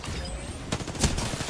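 Stinger weapon firing in a video game, a short rattling volley of rapid shots with two sharper bursts in the second half, loud and close.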